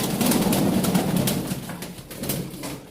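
Soft, low cooing from pigeons around water, a rolling throaty murmur over a steady background hiss, fading slightly toward the end.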